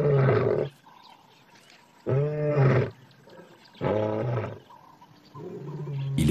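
Lions on a South African reserve roar to signal their position: four deep, powerful roars separated by short pauses, loud and fairly close, with no voices.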